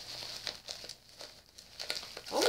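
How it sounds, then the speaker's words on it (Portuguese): Plastic wrapping on a package crinkles and crumples in short, close bursts with brief pauses, growing louder and denser at the end. "Capaz de eu quebrar o que tá dentro e não tirar o plástico."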